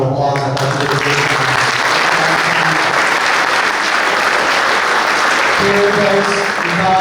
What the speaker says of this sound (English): give Deb Gregoire a round of applause